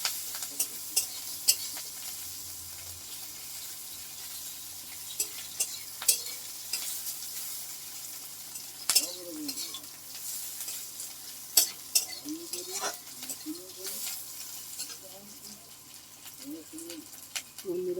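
Chopped onions fry with bay leaves in a pan, a low steady sizzle broken by spatula scrapes and clinks while a person talks intermittently nearby.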